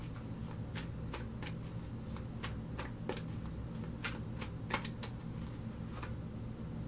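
Tarot cards being shuffled by hand, a steady run of crisp riffling flicks repeating for several seconds, close and moderately quiet over a faint constant hum, with no talking.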